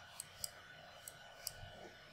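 A computer mouse clicks four times in a sparse, uneven rhythm, faint and close, over a quiet background hum while setting up recording times in Vivotek VAST surveillance software.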